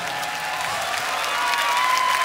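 An audience at a punk concert applauds steadily, a dense wash of clapping that swells slightly toward the end, moderately loud and without clear talk over it.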